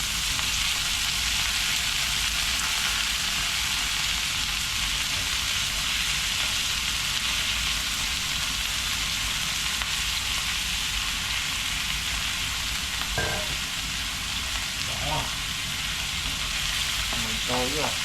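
Eggplant frying in hot oil gives a steady, loud sizzle throughout, with a few sharper pops and spatters near the end.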